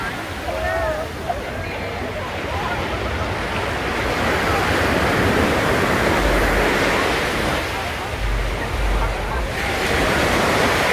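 Ocean surf at Waikiki beach, Hawaii, a steady wash of breaking waves with gusty wind buffeting the microphone, loud and close, while a person speaks over it.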